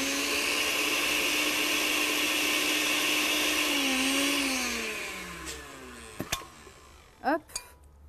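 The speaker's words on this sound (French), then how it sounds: "C'est un gros mixeur aussi pour une petite dose de pesto." A large blender runs steadily at high speed while mixing a small batch of nettle pesto with oil at the bottom of the jar, then its pitch drops as it spins down and stops, followed by a few clinks of the jar.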